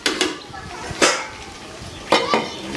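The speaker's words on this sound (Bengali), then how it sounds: "এই ঢাকনাটা দিয়ে দিলাম।" A lid goes onto a pot of chicken curry with potatoes, giving a few sharp metallic clatters and knocks close by.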